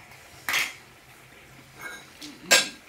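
Metal kitchen utensils being dropped into a pot in a home kitchen: two sharp clattering clinks about two seconds apart, with a fainter clink between, close and loud against a quiet room.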